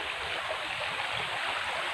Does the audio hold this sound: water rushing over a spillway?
yes